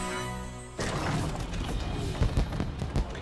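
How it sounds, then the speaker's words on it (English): Fireworks bursting in the video game Puppeteer: a sustained musical tone cuts off, followed by a dense crackling wash of explosions with several louder booming pops near the end. "Ooh, what lovely fireworks!"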